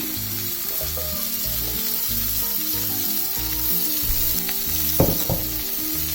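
Food fries in a pan with a steady, fairly loud sizzle and hiss, a couple of brief clatters near the end, while soft music plays low underneath; no one speaks.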